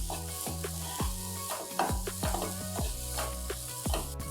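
Grated carrot for carrot halwa cooking over a low flame in a pan, with a steady soft sizzle and repeated rhythmic stirring scrapes, close and continuous, no talking.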